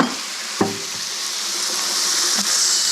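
Vegetables sweating and softening in a pan with a pinch of kosher salt, a steady broad sizzle running throughout, with one sharp clack near the start and another soft knock late on.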